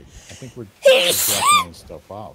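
A single sharp human sneeze bursts out mid-conversation during a Sea of Thieves gaming session, loud and close, with people talking just before and after it.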